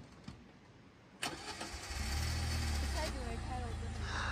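A car engine at high altitude starts and then labours hard on a hillside while trying to pull away, its low revving drone rising loudly and holding steady, with people talking over it.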